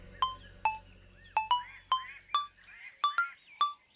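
A phone rings indoors with a repeated electronic chirping tone, about nine short bright pulses in quick pairs and singles, fairly clear against a quiet room.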